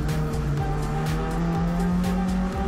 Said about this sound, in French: On descend une nouvelle fois de rapport pour plonger un petit peu dans un virage à l'aveugle à gauche sous le pont.